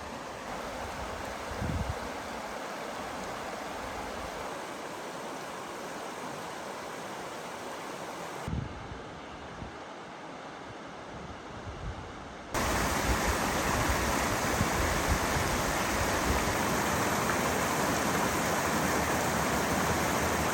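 A creek at a dispersed backcountry campsite near Panther Creek Campground gives a constant broadband rush of flowing water, steady throughout with one abrupt jump in loudness partway through.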